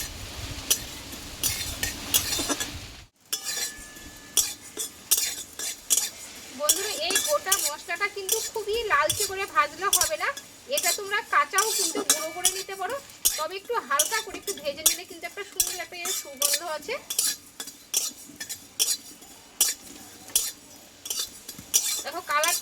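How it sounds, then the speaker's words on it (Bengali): Whole fennel, cumin and coriander seeds dry roasting in a pan, heard as repeated metallic clinks and scrapes of a spoon stirring against the pan, close and steady, with a soft sizzle underneath. "এই মশলাটা আমি একটু ভেজে নেবো আগে"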